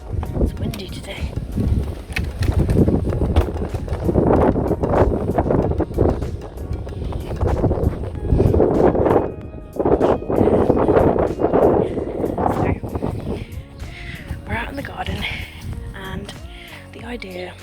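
Strong wind buffets a handheld microphone outdoors beside a garden book shed, a steady roaring rush with gusty surges, while a person talks throughout.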